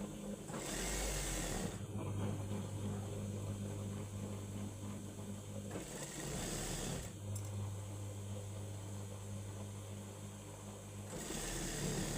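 A sewing machine stitches the seams of palazzo pants, humming steadily and faintly in several long runs with brief changes between them.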